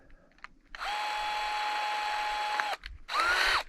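Power drill driving 10-inch screws down into laminated wooden foundation beams of an A-frame cabin build, one long steady whine under load for about two seconds, then a shorter second burst, close and loud.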